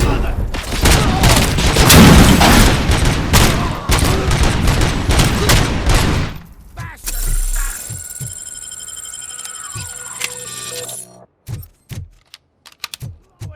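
Gunfire in RoboCop: Rogue City, dense bursts of shots mixed with shouting voices for the first six seconds, then scattered sharp single shots and thuds over quieter game sound.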